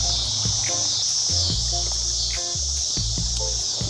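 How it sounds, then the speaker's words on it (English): Insects drone in a loud, continuous high buzz outdoors in a garden beside a small patio bed, a steady bright hum under scattered low thumps and rustles, with no talk. "What are the bugs that make all the noise? But they're loud."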